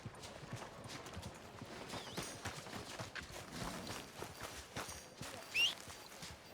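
Horse hooves clip-clop steadily at a walking pace in Red Dead Redemption 2 on PS4, moderately close under game ambience, with a faint snort or whinny near the end.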